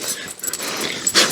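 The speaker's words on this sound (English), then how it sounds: "What are you howling about out there?" A dog howls outdoors at a distance, a brief thin wavering cry that is faint and airy, standing alone without talk.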